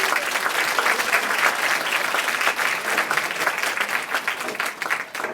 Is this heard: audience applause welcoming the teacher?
yes